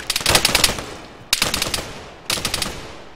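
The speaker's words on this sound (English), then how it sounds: "we're shooting our own people here" Gunfire from the video game ARMA 3 during a combat patrol ambush: three loud bursts of rapid automatic fire, each a string of sharp cracks, separated by brief pauses.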